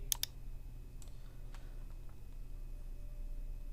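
A few sharp computer mouse clicks while working in Microsoft Access, two quick ones close together at the start and fainter single clicks after, isolated against a quiet steady room hum.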